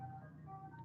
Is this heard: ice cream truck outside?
yes